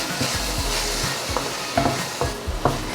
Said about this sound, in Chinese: 炒到現在，番茄有明顯變軟